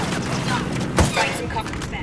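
Gunfire in the video game Ghost Recon Wildlands, a rapid fusillade of shots with one louder bang near the middle, over constant game noise and a voice talking.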